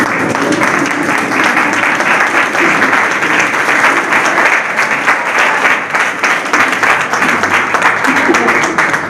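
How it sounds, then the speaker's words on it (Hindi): A standing audience at a farmers' union review meeting applauds to welcome the chief guest, loud continuous clapping for several seconds with a faint murmur of voices beneath. "तालियों से स्वागत करेंगे"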